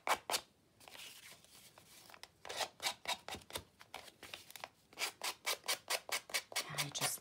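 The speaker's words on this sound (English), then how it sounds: "I'm going to take an emery board" An emery board is rubbed along the edges of a paper cover made from an envelope, producing close, rhythmic rasping strokes in quick repeated bursts with short pauses between runs.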